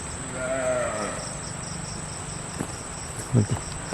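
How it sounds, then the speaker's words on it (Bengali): Outdoors at night near a river char, a low drawn-out moo rises early, followed by a few faint thumps and knocks over continuous cricket chirping and a steady high insect whine. "বারবার মনে হচ্ছে কোনো একটা গরু ডাকে"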